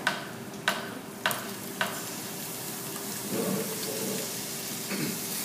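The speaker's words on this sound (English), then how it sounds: "Okay, so we're going to add our tomatoes." Diced tomatoes drop into a pot of softened vegetables with a few sharp splats, then a soft sizzle and stirring continue quietly.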